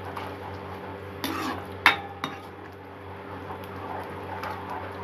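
Sugar being stirred into paneer butter masala in a pan, a few sharp clinks of a metal spoon against the pan and soft scraping over a low steady hum, fairly quiet.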